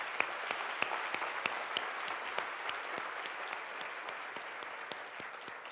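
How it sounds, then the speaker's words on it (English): Audience applause at a talk on genetically modified foods: steady, fairly distant clapping from a modest crowd, with individual sharp claps popping out over a continuous patter. "let's give applause there"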